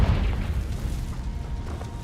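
A Confringo blasting spell erupts in Hogwarts Legacy as a low, rumbling boom that fills the clip with heavy, sustained bass and slowly decays.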